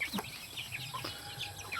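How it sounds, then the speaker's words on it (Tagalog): Chickens cluck and chatter in short, scattered calls, several birds close by, with soft rustling between the calls. "Pakain na naman tayo ng mga alaga nating manok."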